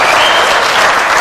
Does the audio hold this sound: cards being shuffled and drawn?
no